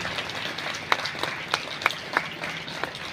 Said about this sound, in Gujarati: તાળીઓથી આપણે વધાવશું